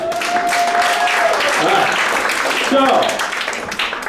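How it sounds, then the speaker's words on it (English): An audience claps and cheers, a lively burst of applause with voices mixed in, swelling then gradually tapering off. "Give her a big round of applause."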